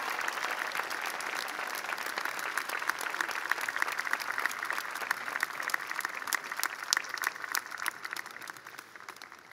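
A university commencement audience applauds a speaker at an outdoor undergraduate ceremony, a broad, even wash of many hands clapping that holds steady and slowly thins toward the end, fairly distant and without voices over it.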